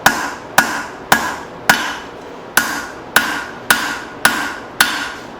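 Hammer blows ring out on hot steel while a forged spoon handle is tapered on an anvil: nine sharp, evenly spaced metallic strikes, each with a short ringing decay, loud and close with no talking.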